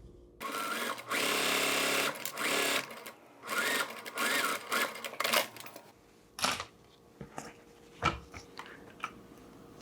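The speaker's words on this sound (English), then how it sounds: "when I'm done sewing this, it's going to be like that." A sewing machine stitches a zipper pocket for a bag, running in several loud bursts of rapid mechanical whirring separated by pauses, with quieter fabric handling and clicks between stitches.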